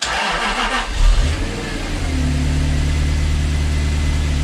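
A Jaguar XK8 V8 with a freshly replaced ignition coil cranks briefly, catches, and settles into a steady, smooth idle, heard close with the hood open.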